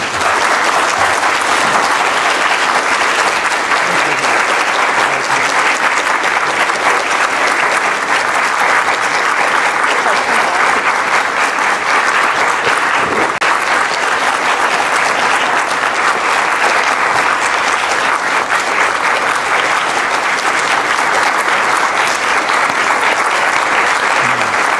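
A lecture audience applauds to welcome Abhijit Banerjee and Esther Duflo with loud, sustained clapping from a large crowd that stays even for nearly twenty-five seconds.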